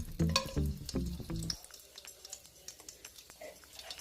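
Cardamom and cloves fry in hot coconut oil. A short burst of louder tonal clatter opens, then a quieter, crackling sizzle with scattered pops continues alone.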